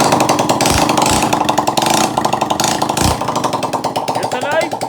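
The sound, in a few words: engine running after fuel injector repair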